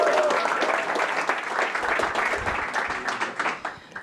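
An audience at a startup accelerator demo day applauds steadily and loudly, a dense wash of many hands clapping that holds for several seconds before thinning slightly toward the end.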